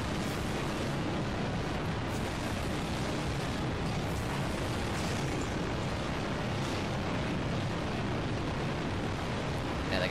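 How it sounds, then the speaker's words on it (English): A relentless barrage of fireballs in the Backdraft attraction game: a continuous, loud roaring rumble of fire and blasts with no break, dense and steady for the whole stretch. "Look at that barrage of fireballs."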